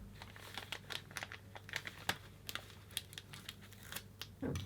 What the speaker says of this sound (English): I'm making my cone. Little bit of cellophane.